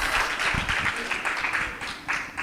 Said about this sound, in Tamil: முதல்ல அதுக்கு ஒரு மிகப்பெரிய கைத்தட்டல்களை கொடுக்கலாம்.